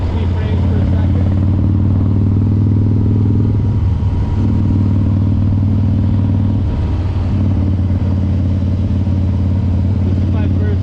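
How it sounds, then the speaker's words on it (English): A 2006 Harley Davidson Dyna Super Glide FX rumbles loudly and steadily while riding, a deep continuous engine drone with slight shifts in pitch, plus buffeting wind noise close up and a voice speaking over it. "This is my first time filming a motorcycle ride"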